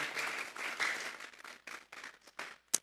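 Church congregation clapping as an offering to God, a short burst of applause that breaks into scattered claps and trails off within a few seconds.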